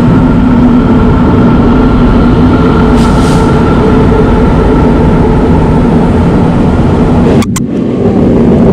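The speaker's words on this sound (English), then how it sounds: "Hope we got the train coming." A train rolls steadily past a fishing spot as a loud, continuous low rumble that holds for the whole stretch, with a brief sharp metallic squeal near the end.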